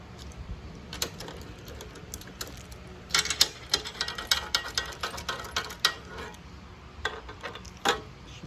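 Screws are tightened to mount a top box on a KTM 790 Adventure motorcycle. Close, irregular ratcheting clicks come in quick clusters, busiest in the middle stretch, with quieter pauses between.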